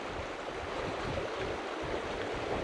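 A remote creek flows steadily beside a campsite beneath the snow-capped Bitterroot Mountains, its broad continuous rushing wash close and fairly loud with no break, mixed with a little wind.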